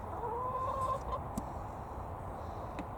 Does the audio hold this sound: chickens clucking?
yes